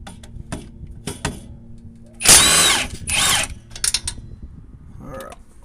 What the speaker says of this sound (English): Got me a big old Milwaukee impact.